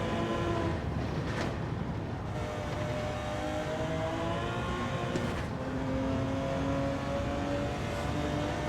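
Race car engine in Gran Turismo 7 droning at high revs, with a few quick gear-change blips and a steady pitch through the rest, loud and unbroken by speech.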